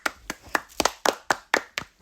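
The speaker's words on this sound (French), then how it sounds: "On l'applaudit." A person claps their hands about eight times in a steady, evenly spaced rhythm, crisp and close, with no voices over it, during a Brawl Stars match.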